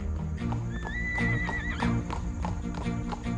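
Horses neigh and whinny over a steady clatter of hooves, used as a sound effect for a documentary scene of a chariot drawn by flying horses. The sound is loud and close, with no talk.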